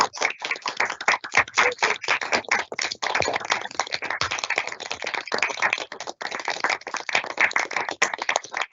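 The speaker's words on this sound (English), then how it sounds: "Can I request everybody to unmute and give a round of applause?" Participants in an online council meeting applaud with unmuted microphones, producing continuous dense clapping that sounds clipped and uneven through the connection throughout.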